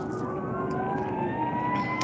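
A fire engine siren wails past on a street during an outdoor walk under an evening sky, its rising and falling tone sliding downward in pitch as it moves by over steady traffic rumble.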